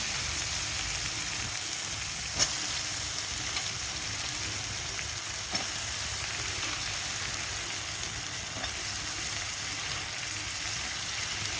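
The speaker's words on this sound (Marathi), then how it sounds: "कांदा आपला लालसर झालेला आहे, आता आपण यात भेंडी टाकून घेऊ" Okra tossed into browned onions sizzles steadily in a frying pan, a continuous close hiss with a few faint clicks and no voices.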